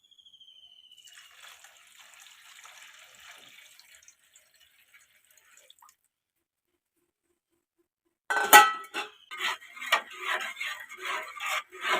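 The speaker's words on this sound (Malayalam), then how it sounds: "അതിലേക്ക് നമുക്ക് വെള്ളം ചേർക്കാം" Water is poured into a pan of Kottayam-style river fish curry after tamarind water; a faint early trickle gives way, after a short pause, to louder splashing and clattering bursts near the end.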